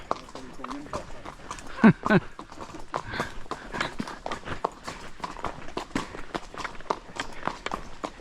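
An impatient horse's hooves clip-clop along at a steady walking rhythm on a mountain outing, close by, with scattered voices talking over the top.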